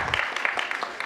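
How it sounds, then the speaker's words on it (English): Audience applause at a live-streamed stage event, heard as a short burst of dense clapping with a few louder individual claps standing out. "Big round of applause, please."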